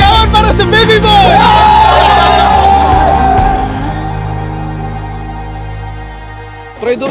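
Several people shout together at a home gender reveal celebrating a second baby, a loud burst of overlapping voices that holds for about four seconds, fades into a low hum, then rises briefly again near the end.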